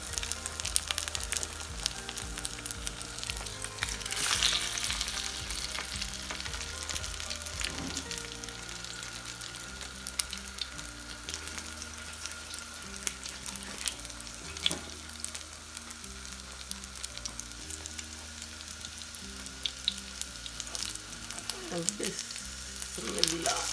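Egg-coated chicken cutlets fry on a low flame for a chicken cutlet kebab, giving a steady, close sizzle of hot oil throughout with occasional soft stirring and utensil taps, no voices.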